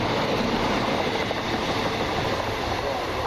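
Passenger train from Stansted Airport to Birmingham New Street passing near Water Orton: a loud, continuous broadband roar and rumble of wheels and carriages rolling by close at hand, steady throughout.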